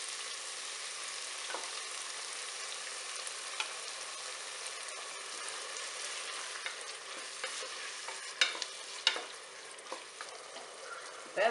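Masala frying with yogurt in a pot for veg biryani gives a steady, fairly soft hiss, with occasional clinks and scrapes of stirring toward the end and no voices.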